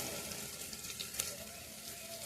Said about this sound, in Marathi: पहिले कांदा चांगला भाजत आला भाजला आपला कांदा